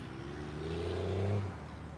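An old, worn-out truck engine revving nearby at dusk, a rough droning rise in pitch and loudness that peaks briefly before easing back down.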